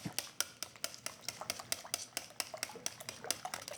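A utensil from a banneton set stirs and chops through sourdough starter mix in a bowl, making quick, steady, close scraping taps at an even rhythm with no talk.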